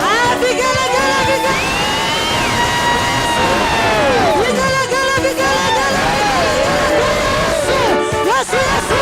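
A church congregation ululates in joyful vigelegele, many high trilling voices overlapping loudly and continuously with shouts and cheering from the crowd throughout.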